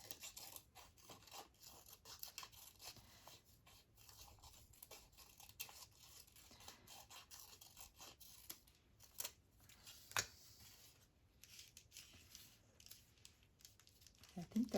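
Scissors snip around the edge of a paper envelope during a painted and collaged craft project, making quiet, intermittent cuts and crinkles close by, with faint rustling of paper between them.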